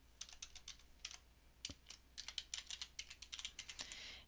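An address being typed on a computer keyboard: a steady run of crisp, close key clicks in quick irregular bursts with brief pauses, with no voices.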